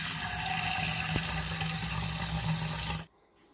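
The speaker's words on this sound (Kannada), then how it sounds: "ಇದಕ್ಕೆ ಸ್ವಲ್ಪ ನೀರು ಹಾಕಿ ನೆನೆಸ್ಕೊಳ್ಬೇಕು." Water runs steadily from a tap into a container to soak cut dry fish in a home kitchen, a continuous close splashing flow for about three seconds that then stops abruptly.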